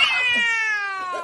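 A kitten gives one drawn-out, high, wavering meow, close and clear, lasting just over a second with no talk over it.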